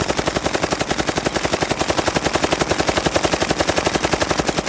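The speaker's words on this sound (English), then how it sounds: "we'll crank off a little bit of the M60 here" An M60 machine gun fires a sustained automatic burst, a rapid, steady stream of loud, close shots lasting nearly five seconds without pause.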